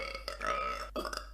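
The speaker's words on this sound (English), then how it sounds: "Can I not go a video without burping?" One close, drawn-out burp with a gurgling, voiced quality, rising and then breaking into a short second push near the end.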